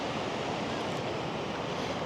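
Ocean surf and strong current wash near moored boats on a rocky Fijian shore, a steady, soft rushing roar of water mixed with wind noise, continuous and fairly faint, no voices.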